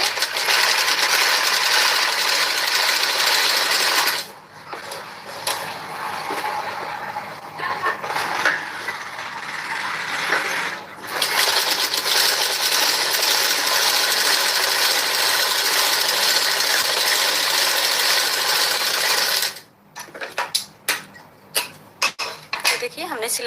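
An electric sewing machine running fast along the lining edge of a blouse, a dense, loud mechanical whir that stops briefly twice, then gives way to a few short clicks and bursts near the end.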